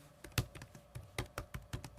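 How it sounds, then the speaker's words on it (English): Fingers type on the keyboard of a Lenovo X1 Carbon 7th gen laptop, quiet irregular clicks and taps with one louder keystroke, close and alone. "Keyboard still feels the same or very close to the same."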